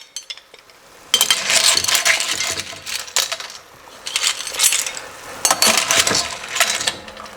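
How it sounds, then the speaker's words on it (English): Cooked clams in their shells spooned from a pan into a serving dish, giving repeated bright clinks and rattles of shell against metal and dish in irregular bursts, close up with no talking. "we're just going to spoon them out of here straight into our serving dish"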